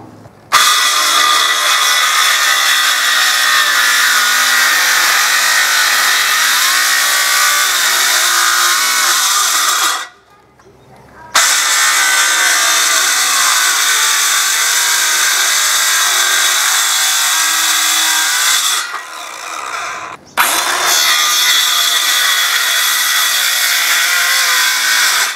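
A power saw cuts wood to trim the edges of a homemade inkle loom, running loud and steady in two long stretches broken by short pauses.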